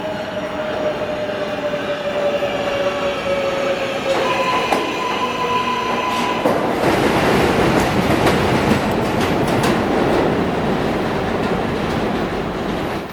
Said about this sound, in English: now we're hopping on the subway, the 7